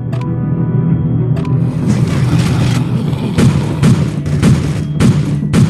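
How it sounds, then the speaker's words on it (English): Gunfire from a gun turret in the video game State of Survival: a dense, loud barrage of overlapping shots and booming impacts that runs continuously, with sharper bursts standing out over the din of battle. "Gunfire is too loud."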